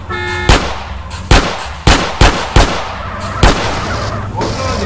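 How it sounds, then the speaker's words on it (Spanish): Gunshots ring out in a multiplayer game modded from GTA V, seven sharp cracks at uneven intervals, loud and close over a constant background hum. Some voices can be heard faintly. "Yo le disparo. No puedo dispararle."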